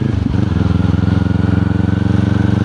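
A 2023 Kawasaki Z400 motorcycle engine idles loudly and close by with a steady, rapid pulsing throb and strong low harmonics, running alone without talk.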